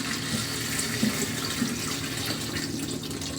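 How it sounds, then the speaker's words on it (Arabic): Steady running water from a tap splashes into a kitchen sink while a hot air fryer basket and drawer are rinsed, a continuous close wash with small splashy variations and no talking. "تعالوا كده نعملها مع بعض على الحوض. تعالوا كده نغسلها مع بعضينا."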